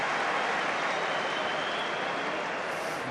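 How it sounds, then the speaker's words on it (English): A stadium crowd at an Ireland versus Scotland Six Nations rugby match applauds in a dense, steady wash of clapping and crowd noise, heard from a distance without a break. "Guarantees a round of applause these days."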